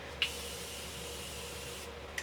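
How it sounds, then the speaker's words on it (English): A steady, soft hiss of Morphe makeup setting spray sustained for about two seconds, bracketed by light clicks of a nozzle at start and end. "I'm just going to quickly set everything with my Morphe setting spray."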